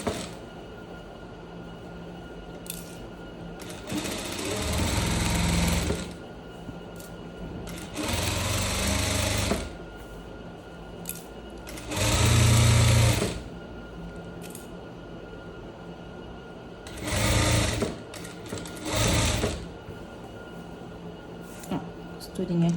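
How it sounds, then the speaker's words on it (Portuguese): A sewing machine stitches a striped shirt in several separate runs of a few seconds each, with quiet pauses between them. Someone talks softly throughout, and a steady faint hum sits underneath. "eu já pego aqui o outro lado e já continuo essa costura"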